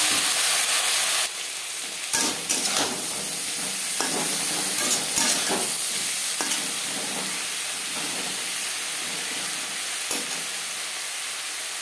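Eggplant hits hot oil already seasoned with bay leaf and five-spice, bursting into a loud, steady sizzle that fills the pan, broken by repeated scraping clicks of a spatula stirring the pieces, with no voices.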